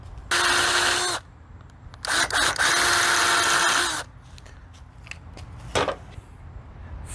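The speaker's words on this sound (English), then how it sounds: "Four properly drilled holes." A power drill bores four holes through a piece being repaired, in two loud bursts of about one and two seconds each, followed by faint clicks and handling sounds.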